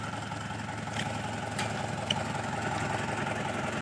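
Low, steady rumble of an idling tractor engine with a cart hitched to it, running continuously nearby, with a couple of faint clicks on top and no talking.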